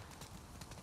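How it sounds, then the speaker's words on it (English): Horse hooves clip-clop in The Last of Us Part 2, a quick, quiet patter of steps heard faintly in the game. "Hello, horse?"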